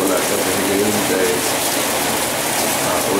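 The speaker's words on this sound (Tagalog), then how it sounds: "ulan" Steady heavy rain hisses without pause during Typhoon Pablo along a boulevard in Dipolog, close and dense, with faint voices under the downpour.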